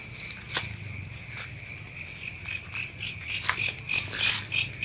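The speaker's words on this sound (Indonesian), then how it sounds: "ada suara jangkrik di sekitar kita" Crickets chirping at night near an old well, a steady high insect trill that grows into loud rhythmic pulsing bursts of chirps, repeating about twice per second over a quiet low background.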